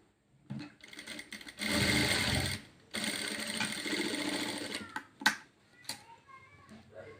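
A sewing machine stitches fabric for a hair band in short bursts of fast mechanical whirring, a longer steady run in the middle, then a few brief clicks and handling noises as it stops; a voice speaks faintly in places.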